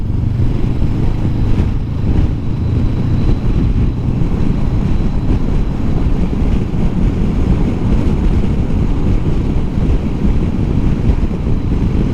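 Strong wind on the 703-metre Col du Vent mountain pass buffets the microphone in a constant low roaring rumble, gusting unevenly the whole time with no talking.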